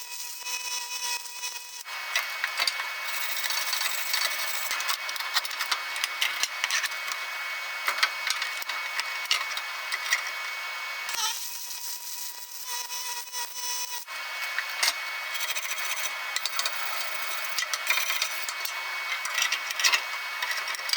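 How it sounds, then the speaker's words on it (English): Aluminum MIG welding on a bottle bracket for a mobile welding cart: a steady, loud crackling buzz that runs in long continuous stretches, pausing briefly about two seconds in and again around eleven to fourteen seconds, with no talk. "Now we can get everything else welded up."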